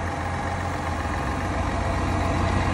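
The 3-liter Duramax diesel in a 2022 Cadillac Escalade Sport idles with the hood open, a steady, even low rumble close by and with no talk over it.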